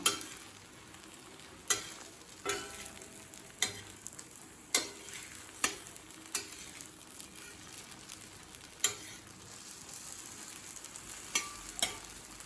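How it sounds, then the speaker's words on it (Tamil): Egg kalakki being gently folded as it fries in a pan, with a soft steady sizzle and sharp spatula taps against the pan at irregular intervals. "முட்டை கலக்கி ஃபுல்லாக வேகக்கூடாது, மடித்து விட்டுக்கிட்டே இருக்கணும்"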